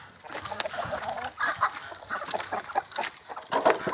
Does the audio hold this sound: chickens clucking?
yes